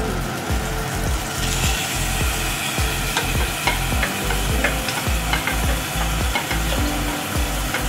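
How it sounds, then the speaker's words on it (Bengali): Yogurt-marinated chicken fries in a pan for pasta Genovese, giving a loud, steady sizzle with repeated scraping stirs across the pan, and no voices over it. "কিন্তু এটাতে আমি আগে দেবো এই ম্যারিনেটেড চিকেনটা"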